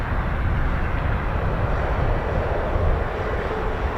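A US Air Force KC-135 tanker at RAF Mildenhall gives off a steady, loud, broadband jet engine roar that holds even throughout, with no voices.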